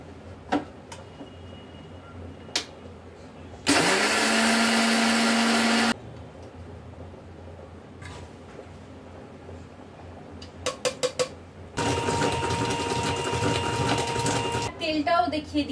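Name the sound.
mixer grinding sugar into powder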